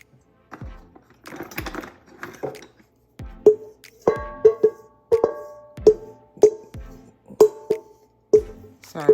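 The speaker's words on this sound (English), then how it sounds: "I cannot stand hearing metal scrape against metal." Metal spoon scraping agave out of a metal container: a run of sharp clinks and scrapes in an uneven rhythm, some with a brief ringing tone, heard close.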